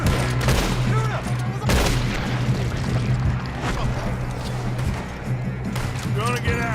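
Gunfire during a train robbery in Red Dead Redemption 2, with several loud shots and bursts cracking over a rumbling moving train while characters shout.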